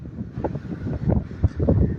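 Strong wind buffeting the microphone on the Sudarshan Setu sea bridge at night, low gusty rumbles rising and falling in uneven surges.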